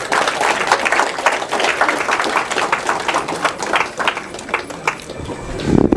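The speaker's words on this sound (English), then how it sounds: "Claps please" An audience at a hospital medical education event applauding a prize winner, steady moderately loud clapping from a small crowd, sustained for several seconds.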